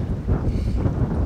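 Wind gusting across the Alaskan wilderness, a close, rough, low rumble of buffeting against the microphone that holds steady throughout without pause.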